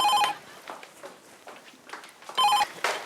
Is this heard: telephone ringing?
yes